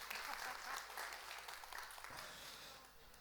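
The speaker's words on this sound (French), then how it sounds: "On applaudit Pasteur Nathan, il est vraiment fort pour faire ça." Applause from a church congregation at a Sunday service, a dense wash of many hands clapping at moderate distance, sustained and fairly even with a slight fade toward the end.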